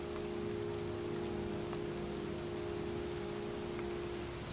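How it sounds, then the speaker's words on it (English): Steady heavy rain hisses continuously in the video game Heavy Rain, a dense even downpour on surfaces with a low constant hum beneath and no voices. "We're gonna just go off into the rain, the heavy rain."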